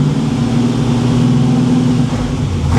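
A Monte Carlo SS V8 idles cold with a fresh transmission fitted, a steady low rumble with a strong droning hum that holds even and loud throughout, close by, with no talking.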